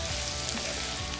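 Onions, celery and chestnuts for stuffing sizzle steadily in a hot pan, a dense, continuous crackle held close and even, with no voices.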